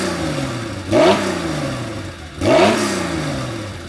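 A hot-rodded Porsche 911 engine with 402,000 miles, fitted with a new cam, revs twice in quick succession, each rev swelling then falling back to a rough, steady idle, recorded up close.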